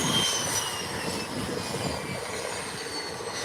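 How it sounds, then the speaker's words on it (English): An airliner's APU roars loudly and steadily at close range as the plane makes a 180-degree turn for takeoff at Howard Hamilton International Airport, a broad engine-like drone holding without a break. "APU is bawling out. Loud. And here comes the departure."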